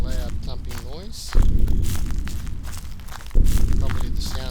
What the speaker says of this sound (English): Probably the sound of his footsteps as he's coming after me.